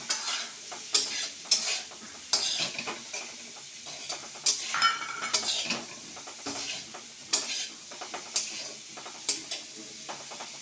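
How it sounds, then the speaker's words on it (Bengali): Vegetables frying with turmeric and salt in a pan for a vegetarian meal, with a steady sizzle under repeated stirring clatter of a spatula against the pan, close and moderately loud, with no talk. "হলুদ লবণ দিয়ে আগে সবজিটা একটু ভেজে নিচ্ছি।"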